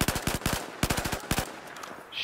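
Rapid automatic gunfire from Battlefield 4 in live multiplayer, several loud bursts of evenly spaced shots separated by short pauses, with no talking.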